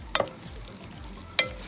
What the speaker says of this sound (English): I'm going to stir it around, press it down, and kind of break it up like this.